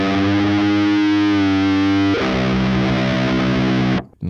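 A distorted electric guitar plays a phrase from a solo, with sustained chords and notes ringing loudly before cutting off abruptly at the end.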